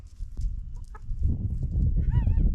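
Chickens on a ranch cluck and murmur close by in a steady flock chatter, with a few higher squawks breaking through near the end.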